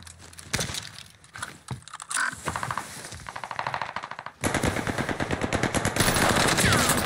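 Video game gunfire in a bomb-mode match, starting with scattered shots and building into sustained rapid automatic bursts that stay loud and dense through the second half.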